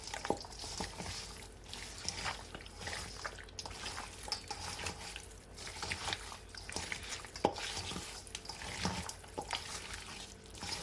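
Wet squelching and rubbing as a hand massages browning seasoning into raw turkey necks for Jamaican brown stew, with soft irregular slaps and drips close by, no talking.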